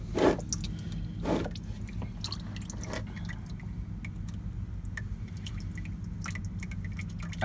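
Motor oil drips from the drain plug hole of a 2004 Toyota Sienna during an engine oil change, a few soft wet drops early on over a steady low hum of background noise.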